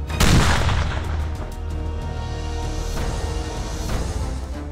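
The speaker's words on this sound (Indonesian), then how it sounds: "Fire in the hole! Fire in the hole! 3, 2, 1, ledakan!" Training explosion during Kopaska frogman commando drills in Indonesia: a loud boom at the start that gives way to sustained rumbling and crackling noise, with scattered sharp reports continuing through the rest.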